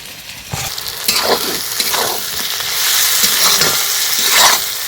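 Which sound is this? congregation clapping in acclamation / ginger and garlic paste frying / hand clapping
ginger and garlic paste frying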